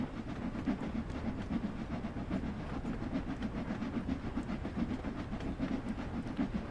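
Steam passenger train in the Train Sim World 2 game running steadily, a low chugging rumble with a regular clickety-clack rhythm of wheels over rail joints, continuous and fairly quiet, with no talk.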